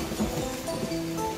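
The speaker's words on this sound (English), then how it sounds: "It began to rain. It rained harder and harder." Rain falls as a storybook sound effect, a soft steady hiss of drops with a faint low rumble underneath, brief and without speech.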